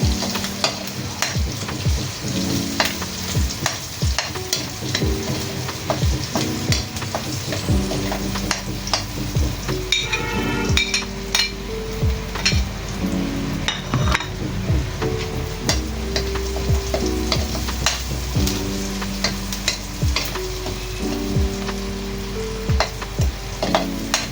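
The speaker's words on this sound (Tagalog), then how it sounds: "Ngayon guys, magigisa na ako ng sibuyas. Dito na sa piniprituhan." Onions sautéing in a frying pan while cooking chicken pochero, a loud continuous sizzle with frequent stirring scrapes and clinks of a utensil against the pan throughout.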